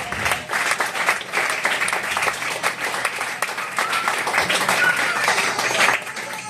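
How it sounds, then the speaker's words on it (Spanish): A church congregation breaks into sustained applause during a sermon, dense clapping that continues evenly and grows slightly fuller toward the end. "Denme un aplauso a eso."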